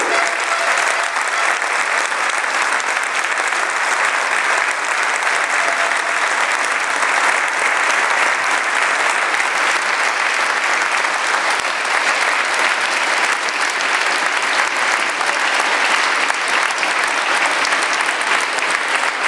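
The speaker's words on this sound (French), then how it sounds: "on va faire un tonnerre d'applaudissements pour penser à lui" A standing crowd gives sustained, thunderous applause at a national cyclo-cross championship prize ceremony in Limoges, with dense, steady clapping filling the space for the whole stretch and no talk over it.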